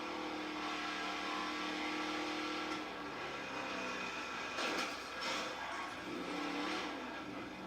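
A monster truck engine revs in a video game, a steady mid-pitched drone that swells and surges with repeated accelerations, heard alone at moderate volume.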